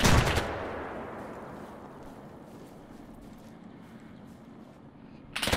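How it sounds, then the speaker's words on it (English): Burst of gunfire in an alternate history video game, a loud sharp shot at the start with a rumbling decaying tail, then another loud shot at the very end. "Let's just fire a few rounds."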